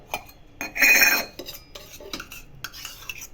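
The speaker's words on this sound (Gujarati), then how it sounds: "કઢાઈ મૂકી" A kadhai set on the stove while making pooran poli, heard as a short run of close metallic clanks and clattering with one louder ringing knock, and no voices.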